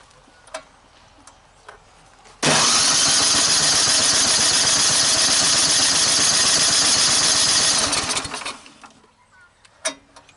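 A small engine cranks and fires with the choke on, running loud and steady for about six seconds before dying away, close by with no talk over it.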